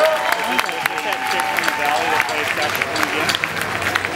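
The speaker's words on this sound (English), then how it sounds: "Can we have one more round of applause for Stacy on the saxophone?" At an outdoor jazz festival, a crowd applauds saxophonist Stacy with steady, lively clapping and some cheering throughout, while someone talks over it.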